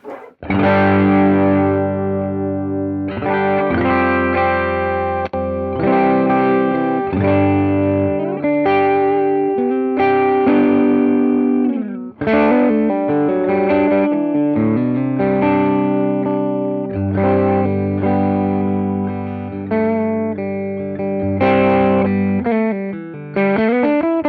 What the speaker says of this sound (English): It's a great low gain overdrive sound